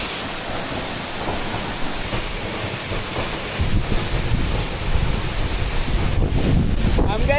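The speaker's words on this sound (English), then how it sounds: "It's 77 meters tall and it's the tallest waterfall in all of Arusha and Kilimanjaro area." Roaring 77-metre waterfall in the Arusha and Kilimanjaro area of Tanzania, its mist drifting near the viewpoint; a steady broadband rush fills the whole stretch, growing heavier and rougher partway through, with wind buffeting the microphone.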